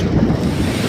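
Sea waves wash steadily onto the shore on a breezy evening, a broad continuous roar mixed with wind buffeting the microphone, close and loud with no voices.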